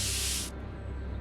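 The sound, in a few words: spray can hissing in a Back to the Future video game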